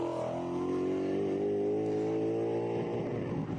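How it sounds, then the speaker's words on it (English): A drift car's engine holds a loud, sustained high-revving note that begins to stutter and chop near the end as it bounces against the rev limiter during a drift run. "Drifting below the cones, a little bit of rev limiter I think I heard"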